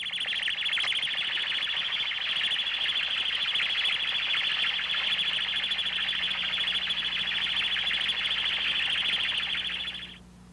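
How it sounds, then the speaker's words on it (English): A warble tone generator emits a steady, shrill electronic tone, loud and unbroken for about ten seconds, then cutting off abruptly. "reduce the warble tone generator's amplitude while scanning for these differences"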